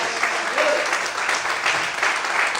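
A church congregation claps together in a steady, dense burst of applause during a sermon, the even sound filling the whole short span.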